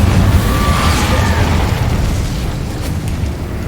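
An Incendio fire spell blast in Hogwarts Legacy, heard as a loud, deep rumbling boom with a crackling burst that slowly fades over a few seconds, no talking.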